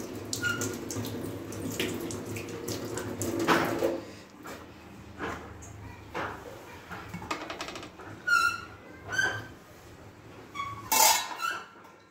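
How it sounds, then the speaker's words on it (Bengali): Water from a kitchen tap runs in a steady broadband rush while hands are washed under it, with a few brief louder splashes and squeaky rubbing toward the end, close by and without talk. "দাঁড়াও হাতটা ধুয়ে নিই একটু।"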